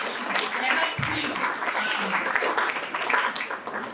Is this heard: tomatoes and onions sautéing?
no